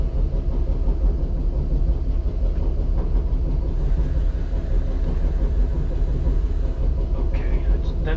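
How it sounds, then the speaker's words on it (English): A vintage New York City R9 subway car runs at a trolley museum in East Haven, Connecticut, with a steady, loud rumble of the rail car and motors throughout and brief higher squeals near the end. "This is my first time like driving a New York City subway train."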